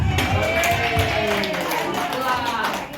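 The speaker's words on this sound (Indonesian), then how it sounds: "Tepuk tangan untuk kita semua" Group applause at a teacher training session on positive school culture, a steady patter of many hands clapping that carries on for about three seconds while voices talk over it.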